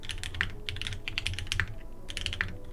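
Rapid clicky keystrokes on a custom mechanical keyboard, bursts of typing with brief pauses, close and crisp over a low background hum.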